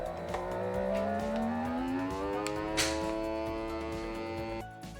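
An SV301E vacuum sealer starts its vacuum cycle, its motor climbing in pitch to a loud, steady whine before cutting off abruptly near the end.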